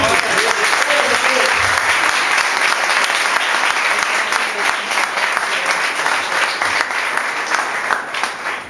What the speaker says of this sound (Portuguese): Se quiser aplaudir o Senhor, pode aplaudir.